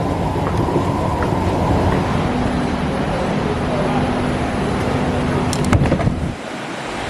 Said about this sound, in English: Time to hop on a nice dry train.